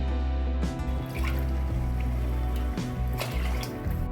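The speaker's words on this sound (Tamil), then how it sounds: "இப்போ அரிசிக்கு தேவையான தண்ணி சேர்த்துக்குவோம்" Water pours and trickles into a pot of rice, with splashing drips and a steady liquid flow over a low background hum.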